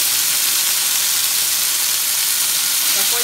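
Freshly boiled pasta dropped into a hot frying pan for aglio olio e peperoncino sizzles loudly and steadily, a dense close-up frying hiss without a break.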